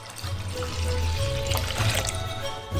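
Water poured into a bucket to make a soy sauce marinade for eggs: a continuous close splashing and gurgling stream that runs for the whole clip, loud and steady.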